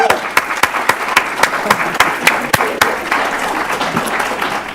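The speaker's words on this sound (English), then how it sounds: "would you give yourselves a nice round of applause so folks will know you're in the room this evening?" Audience applause at an evening school citation celebration, a room of people clapping steadily with sharp individual claps standing out near the front, sustained across the whole stretch at moderate loudness.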